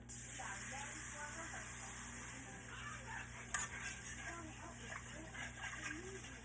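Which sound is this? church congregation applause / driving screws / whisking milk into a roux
whisking milk into a roux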